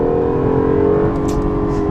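Steady engine drone from a 2017 Acura NSX hybrid supercar, revving with a sustained tonal hum and a slight rise, loud and close, with no talking.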